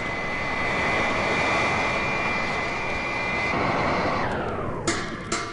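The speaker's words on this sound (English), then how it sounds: "Robot plane slow to rendezvous with ship and hover. And Wonder Woman's plane soon makes contact with the alien craft." Wonder Woman's plane in an audio drama effect, a loud steady engine drone with a rising whine that holds for several seconds before two sharp bursts near the end.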